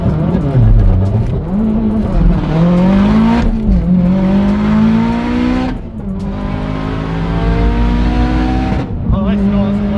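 A Subaru STi Grey Series with a stock clutch launches hard, its engine roaring loudly and rising in pitch through several gear changes, with voices faintly under the noise.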